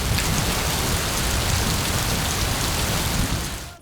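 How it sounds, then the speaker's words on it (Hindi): Heavy, steady rain pours down as a dense, loud, unbroken roar and fades out at the very end. "फैसलाबाद, बक्कर, खुशाब, अटक और सिब्बी में भी मूसलाधार बारिश हुई।"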